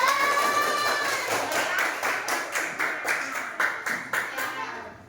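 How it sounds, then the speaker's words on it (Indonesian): A classroom of students claps for group 3, a lively burst of many hands that breaks into a loose rhythmic patter before fading out. "Tepuk tangan dulu untuk kelompok 3, mantap."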